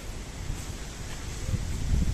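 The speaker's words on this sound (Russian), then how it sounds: "ветер сегодня, друзья, довольно-таки сильный" Strong wind buffets the microphone on a city street in Jelgava, with a steady rushing roar and low rumbling gusts that swell toward the end.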